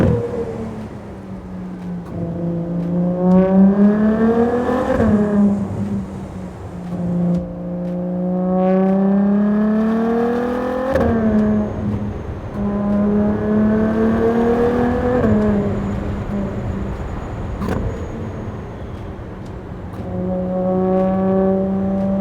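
Ferrari Monza V12 barchetta rising through the revs again and again, four loud drawn-out accelerations each climbing in pitch and breaking off at the gearshift, with a faint whirring whine above.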